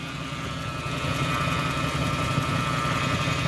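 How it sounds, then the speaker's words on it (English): A Lexus LS 400 engine idles steadily after being restarted, a continuous close mechanical hum with a low rumble that grows slightly louder after the first second and then holds even, with no voices. "Well, I started the car again"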